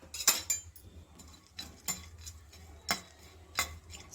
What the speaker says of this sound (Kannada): ತುಪ್ಪ ಮೆಲ್ಟ್ ಆದಮೇಲೆ ನಾನು ಇಲ್ಲಿ ಸ್ವಲ್ಪ ಬಾದಾಮಿನ ಸಣ್ಣದಾಗಿ ಕಟ್ ಮಾಡಿ ಇಟ್ಕೊಂಡಿದ್ದೆ. ಅದನ್ನು ಈ ತುಪ್ಪದಲ್ಲಿ ಹುರಿದು ತಗೊಳ್ಳೋಣ.